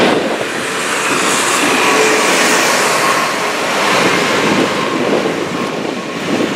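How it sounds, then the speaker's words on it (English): Freight train rolling over a stone viaduct on a countryside walk between Chapel-en-le-Frith and Chinley, a steady broad rumble and rush that holds loud for the whole stretch, mixed with wind buffeting the microphone. "Freight train going over the viaduct."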